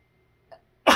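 A short sharp intake of breath is followed by a loud, explosive sneeze, close up in otherwise near silence.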